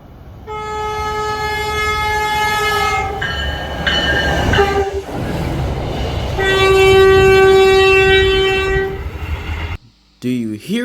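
An NJ Transit RiverLINE light-rail train passes close by, its loud, sustained multi-tone horn sounding in long blasts over the steady rumble of the cars, ending abruptly.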